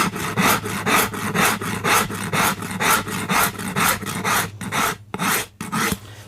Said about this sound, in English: Now I'm filing to this line.